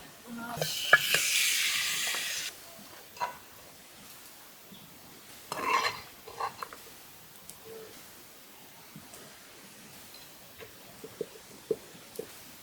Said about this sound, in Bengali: এখন আমি মাংসটা কষা বুনা